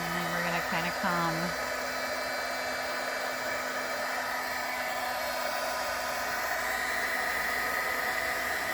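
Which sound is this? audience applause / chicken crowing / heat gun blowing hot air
heat gun blowing hot air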